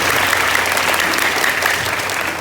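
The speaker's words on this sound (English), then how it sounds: "Yes, come on, give a big round of applause." Loud, sustained applause fills a school hall during a student Gavel Club meeting, the dense clapping continuing evenly from start to finish.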